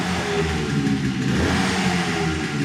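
A second-hand 2018 Suzuki Gixxer motorcycle engine runs close by, a steady mid-pitched engine drone with a slight rise in revs and no talk.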